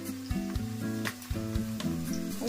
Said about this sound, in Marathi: तवा तापलाय तेलही तापलंय थोडस लसूण घालते मी